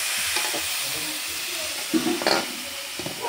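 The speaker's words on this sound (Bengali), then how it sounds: "পোস্ত দিয়ে আলু ভাজা হবে" Potatoes with poppy seeds sizzle steadily in hot oil with a constant hiss, punctuated by a few brief stirring clatters.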